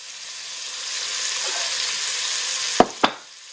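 Vegetables and beef for a stew sizzle steadily in a pot, a close, even hiss, with two sharp knocks of a utensil against the pot near the end.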